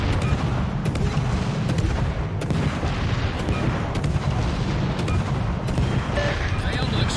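Warship naval guns boom in World of Warships amid constant loud battle noise, with heavy rumbling blasts recurring roughly every second over a dense low roar.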